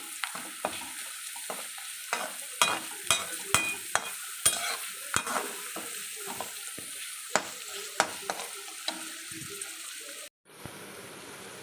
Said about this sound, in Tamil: இப்போ நம்ம கரண்டி போட்டு கொஞ்சம் கிண்டி கொடுத்துருவோம்